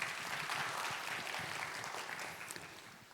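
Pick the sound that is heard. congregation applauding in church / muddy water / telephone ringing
congregation applauding in church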